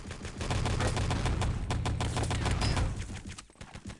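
Gunfire in Enemy Territory during a competitive 6-on-6 match: rapid, dense bursts of automatic shots crackling continuously for several seconds, loud and close, then thinning out near the end.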